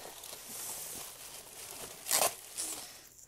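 Bubble-wrap packaging being pulled and torn open around small PVC figurines, a steady crinkling and rustling that swells into a louder burst of tearing near the end, close up with no talking.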